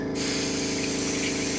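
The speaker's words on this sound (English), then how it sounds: "maybe spray a little bit to clean out your nozzle" Steady, close hiss of an aerosol spray blown through a nozzle to clean it during coyote taxidermy mounting work, continuous for the whole moment with a faint low mechanical hum beneath.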